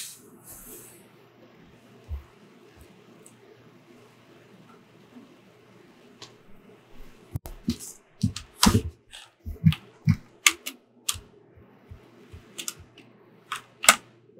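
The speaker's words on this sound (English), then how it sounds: "my keyboard and mouse are very loud, so mind the clicky noises and the tapping noises" A loud computer keyboard and mouse during a Minecraft 1.20 session, sparse clicks at first that turn into rapid, sharp, irregular tapping and clicking heard close up over a faint background hum.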